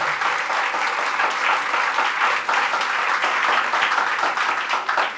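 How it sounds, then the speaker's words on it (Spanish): Sustained applause from a church congregation at a Catholic service, a dense, steady wash of many hands clapping loudly and continuously throughout, with no clear voices above it. "Fuertes aplausos al Rey de Reyes y Señor de señores."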